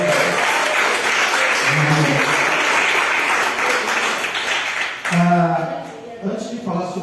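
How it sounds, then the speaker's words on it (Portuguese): A church congregation applauds for Jesus during an evening service led by a bishop, a dense wash of clapping that carries steadily for about five seconds, then thins out under a speaking voice with lingering scattered claps. "Dá uma salva de palmas para Jesus."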